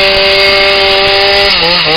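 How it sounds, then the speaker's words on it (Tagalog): A chainsaw roars loud and close as it cuts through trees felled by Super Typhoon Haiyan in Central Visayas, with a steady engine whine that dips in pitch as the blade bites into the wood. "di gamitan na og chainsaw pagsiguro nga way mubabag sa kadalanan"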